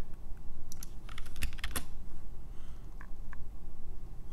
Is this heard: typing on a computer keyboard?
yes